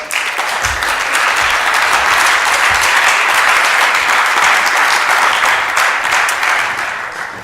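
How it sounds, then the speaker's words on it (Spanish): A large audience at a logistics corridor event in Castilla y León applauds a speaker called to the stage, loud continuous clapping filling the hall evenly for over seven seconds with no talk. "Un aplauso para él, por favor"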